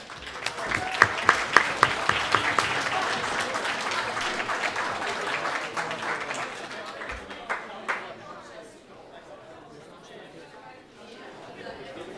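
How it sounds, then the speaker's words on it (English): Audience applause at a youth forum award ceremony for medal winners, dense clapping loud for about eight seconds then thinning to scattered claps, with chatter and voices mixed in. "I'd ask for a round of applause for 10 to 4"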